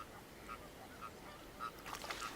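Waterbirds on a winter river in the Middle Rhine Valley, such as mute swans, black-headed gulls and coots, give short, faint honking and quacking calls at a distance, spaced at irregular intervals.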